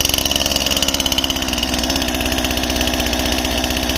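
A STIHL MS261 C chainsaw engine idles close by, a loud, rapid, even two-stroke putter that stays steady throughout without any talking.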